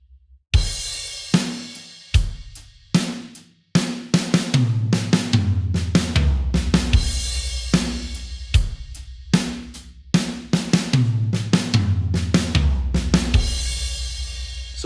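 A drum kit plays a steady groove built from a tom fill pattern, moving from the snare down across the toms, with sharp repeated hits and ringing cymbals, loud and close with no talking.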